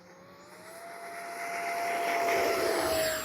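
A radio-controlled F-86 Sabre model with a 64mm electric ducted fan spools up for a downwind takeoff, its steady high whine rising and swelling louder over a few seconds, heard alone outdoors.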